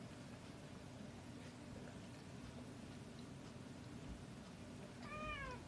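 A pet cat meows near the end, a short rising call over a steady low household hum.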